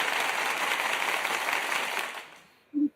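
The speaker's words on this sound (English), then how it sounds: "You can have someone clap." A canned clapping sound effect played on a stream, a crowd applauding for about two seconds before fading out, followed by a brief tonal blip.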